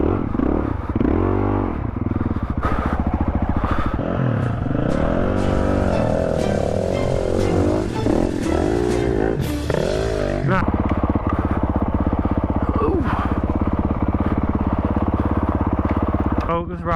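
A 2021 Honda CRF 450 RL dirt bike climbs a steep single-track adventure trail, its engine revving loudly and close with shifting pitch and throttle surges throughout.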